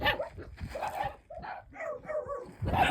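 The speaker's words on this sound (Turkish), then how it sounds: "Oğlum bana mı havlıyorsun sen?" A small dog barks and yips in a short burst of sharp, close calls with brief gaps between them, heard alone without talking.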